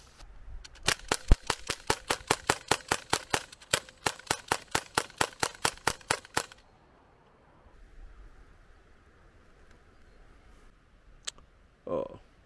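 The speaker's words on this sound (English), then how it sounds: "let's see how fast we can fire these BBs out of this air pistol." An Umarex Mini Uzi .177 air pistol fires BBs in a fast, even string of about two dozen sharp, close snaps lasting roughly six seconds. Near silence follows, broken by a brief burst of noise at the end.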